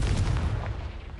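A Confringo fire spell blasts in Hogwarts Legacy, a deep booming burst with a rumbling tail, loud and close in the game's soundscape.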